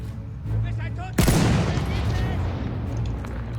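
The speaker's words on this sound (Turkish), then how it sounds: "Şuradan bir yerden sıkıyorlar." Gunfire in the video game Battlefield 1: a sharp, loud burst of shots erupts about a third of the way in and then decays into a rumbling echo, with a voice talking faintly before it.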